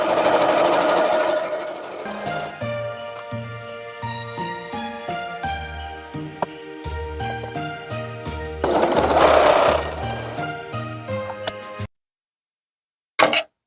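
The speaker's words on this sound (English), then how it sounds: "I have the seam tape on my sewing machine." A sewing machine stitches quilt blocks in loud, rapid bursts, with stops and restarts between seams, then a short pause and one final brief run.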